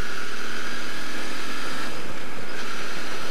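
Royal Enfield Interceptor motorcycle engine pulling hard toward redline, a steady loud drone mixed with rushing wind noise, heard up close with no talk.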